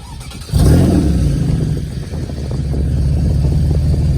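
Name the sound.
sports car engine starting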